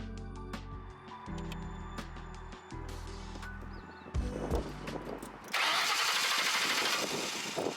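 A Mercury Grand Marquis engine cranks for a few seconds in rough, stuttering bursts, then catches with a loud surge and settles into a steady running roar close by.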